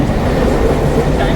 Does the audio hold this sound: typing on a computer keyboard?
no